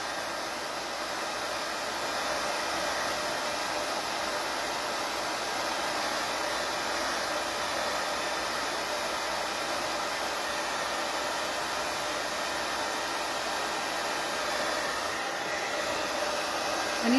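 A hair dryer blows steadily and loudly for the whole stretch, drying paint on a pumpkin, with a constant broadband rushing hiss and no pauses.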